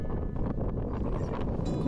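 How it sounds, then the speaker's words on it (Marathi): Strong wind buffets the microphone near a waterfall in the hills, a steady loud roar of gusts and rushing air that runs through the whole stretch without pause. "खूप वारा आहे इथे."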